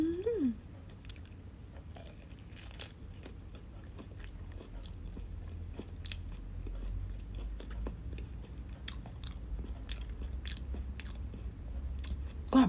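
Close, crisp bites and crunchy chewing of ripe Monthong durian, a series of sharp crackles spread over several seconds against a quiet background.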